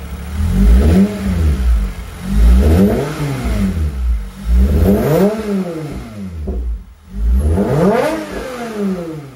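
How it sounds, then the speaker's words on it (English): A Toyota MR2 SW20 with a swapped 2GR V6, freshly revived, gets several short blips of the throttle, each rev rising and falling in a steady rhythm, close and loud with no talking. "here's if I put a little revs into it now."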